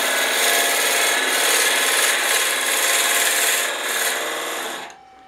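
A Forstner bit held in a Jacobs chuck bores into end grain of wood spinning fast on a lathe for a pepper mill, a steady loud rasping grind that continues without pause, then cuts off abruptly near the end.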